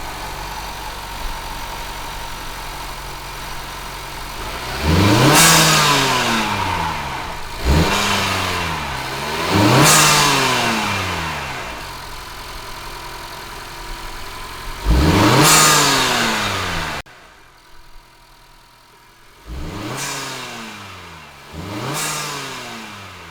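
A 2021 Honda Accord 2.0T fitted with a PRL high volume intake is revved repeatedly, with about seven sharp rises and falls in engine pitch between idle periods, loud and close with no talking.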